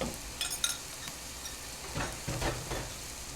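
Gravy mix being stirred into boiling water in a pot, with a few soft scraping strokes and light bubbling sizzle, fairly quiet and close.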